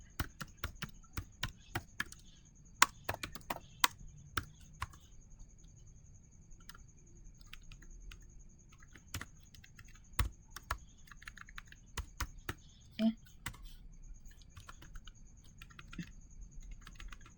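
Rapid keystrokes on a computer keyboard as router commands for a Cisco network are entered, steady bursts of close clicking and tapping with brief pauses, no voice.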